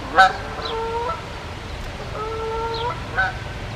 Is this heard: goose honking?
yes